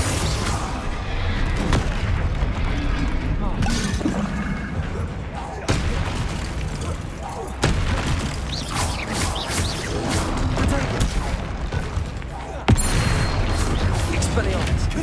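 Confringo spell blasts in Hogwarts Legacy go off as a series of heavy booms and crashes over a constant rumbling game soundtrack, each impact sharp and loud, with a voice talking intermittently.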